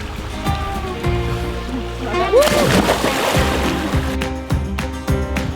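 People splashing while swimming in a lake, heard as a burst of close, loud water sloshing and splatter in the middle, with music playing throughout and a voice talking.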